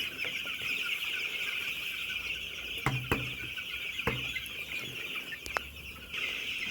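Broiler chickens on a farm cluck and murmur steadily close by, with a high insect-like drone behind and a few sharp knocks, no voices heard.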